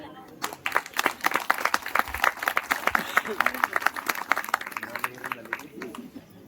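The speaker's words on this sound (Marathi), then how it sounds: "सर्व सत्कार मूर्तीसाठी एकदा जोरदार टाळ्या होऊन द्या." An audience at a felicitation ceremony during a cultural program claps loudly, a dense burst of applause that swells and holds for several seconds before thinning out, with a voice speaking over it.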